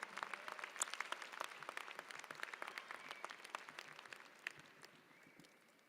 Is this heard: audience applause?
yes